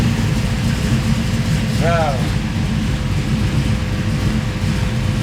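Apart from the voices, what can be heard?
hot rod car engine idling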